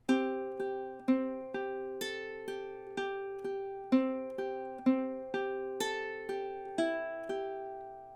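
A plucked ukulele picks out a simple melody, one clear note at a time in an even rhythm, each note ringing briefly before the next, with no voices.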